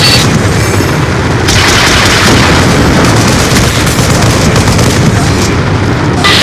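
Heavy explosions and rumbling blasts from an airstrike in Black Ops 2, loud and continuous, with booms rolling over one another throughout.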